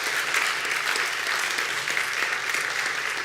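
Warm, sustained applause from a lecture audience after a talk on Civil War history and digital humanities, a dense even patter of many hands clapping throughout, moderately loud and with no talk over it.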